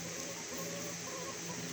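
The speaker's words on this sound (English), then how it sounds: "Look at this rooster over here." Chickens and a rooster cluck softly in a humid barnyard, a steady low murmur of fowl noise running throughout without voices.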